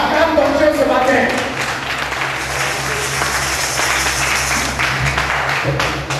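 A church congregation at a New Year's Eve vigil service applauds and acclaims God, dense sustained clapping filling the room with voices shouting over it throughout.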